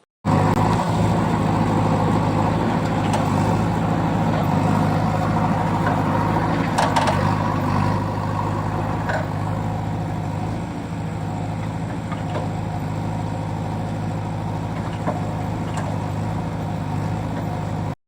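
A steady, loud engine drone from a JCB excavator in a cartoon, continuous low rumble with a slight dip partway through and faint clanks above it, no talking.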